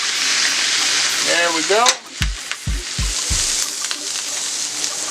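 A smash burger patty sears on a hot flat surface with a loud, steady sizzle and crackle, accompanied by a few thumps and a brief spoken remark.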